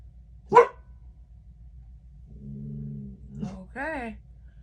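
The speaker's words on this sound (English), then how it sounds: "The neighbor dogs are barking." Neighbouring dogs bark in the distance, one sharp bark early and a short bark later, with a person's voice briefly heard between and after.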